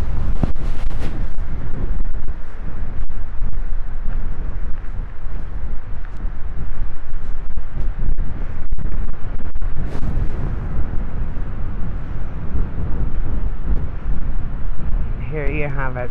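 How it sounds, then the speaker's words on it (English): Strong wind buffets an uncovered microphone beside a lake in Killarney National Park, Ireland, producing loud, continuous low rumbling gusts with sharp bursts throughout, and a brief softer tonal sound near the end. "Now it's going to be super windy by the lake, so I'm going to hold my microphone under and just maybe show you."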